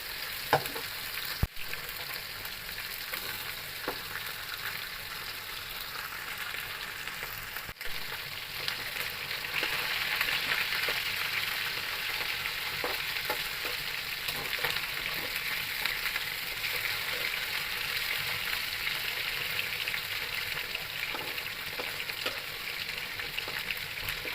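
Marinated fish frying in hot oil in a pan, a continuous close sizzle with occasional clicks and a swell in intensity partway through, no voices.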